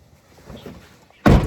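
An auto-rickshaw door shuts with a single loud, heavy thud near the end, after a stretch of quiet, low background rumble and faint movement.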